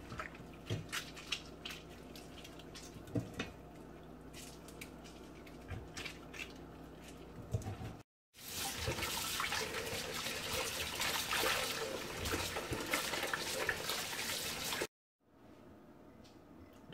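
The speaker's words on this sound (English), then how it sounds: "you rinse it off with some cold water." Cold tap water runs over conch (lambi) meat being rinsed in a kitchen, a steady broadband rush of flowing water lasting several seconds after quieter handling noises and small clinks, then stopping abruptly.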